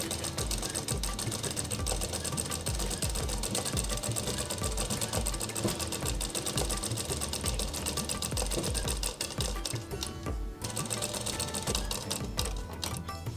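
A sewing machine runs a curved stay stitch around the turned neckline strip of a Patiala kurti, a steady loud whirring stitch that continues nearly unbroken, with a short pause near the end.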